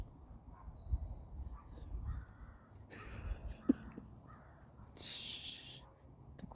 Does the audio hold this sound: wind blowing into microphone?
no